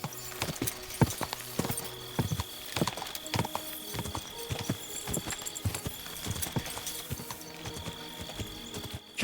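Horse hooves clip-clop in the video game Kingdom Come Deliverance 2, an irregular string of sharp, fairly close hoofbeats with a faint tonal game sound in the background.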